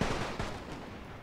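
Volleys of musket and cannon fire ring out in a Great War strategy battle as lines of troops open fire, a dense rolling crackle of shots with a heavier boom near the start, fairly distant and steady.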